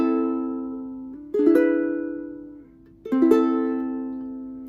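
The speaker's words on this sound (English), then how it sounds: "I'm going to be doing a gentle downward strum with my thumb." Ukulele played with a gentle downward thumb strum, each chord rolled like a harp; two soft strums of a chord progression, each ringing out and fading before the next, played alone.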